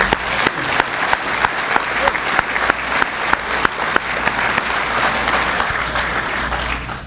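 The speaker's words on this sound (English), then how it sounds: "give them a round of applause" Banquet audience applauding the assistant football coaches, a sustained, loud roomful of clapping with a few sharper individual claps standing out and faint voices beneath.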